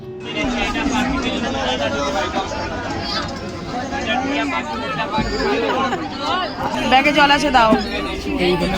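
Dense crowd chatter fills a packed passenger train, many overlapping voices murmuring and calling out close by, with one nearer voice speaking over the steady babble throughout.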